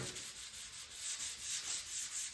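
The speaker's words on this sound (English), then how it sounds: "So again, we'll give it a quick scuff so the finish will fix it." Sandpaper scuffs the finish on a stained glass window frame in quick, rhythmic back-and-forth strokes, a close, hissy rubbing with no voices.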